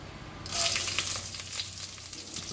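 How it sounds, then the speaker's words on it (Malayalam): Chopped garlic dropped into hot oil with popping mustard seeds gives a sudden, loud, broad sizzle that holds steady for about two seconds, close by and with no talk. "ഈ സമയത്ത് ഒരു 20 വെളുത്തുള്ളി ചെറുതായി അരിഞ്ഞത് ചേർത്ത് കൊടുക്കണം"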